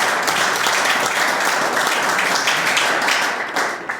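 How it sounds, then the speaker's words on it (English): Loud, close applause from the audience at a rural renewable energy information meeting, thick continuous clapping that stays strong for several seconds and eases slightly near the end. "Let's give him a round of applause."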